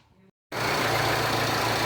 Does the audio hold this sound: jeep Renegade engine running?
yes